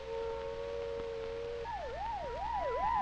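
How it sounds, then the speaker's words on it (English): A civil defense siren sounds the take-cover signal: a steady tone, then a loud wavering wail that rises and falls in repeated cycles over a low background hum. "A wavering siren tone is the take cover signal."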